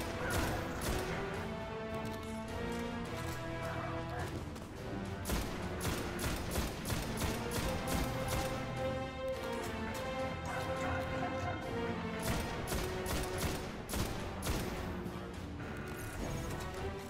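Dense, rapid gunfire from a firefight in Destiny rattles continuously under a layer of tonal game music, fairly loud and steady throughout.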